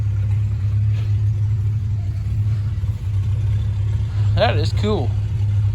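An H diesel tractor engine at a Shenandoah Valley steam and gas engine show in Berryville, Virginia, runs with a steady, close low hum and rumble under outdoor noise, while a person talks briefly near the end.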